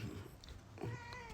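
A house cat meows twice in a short, fairly close call, a brief bright cry then a longer rising one.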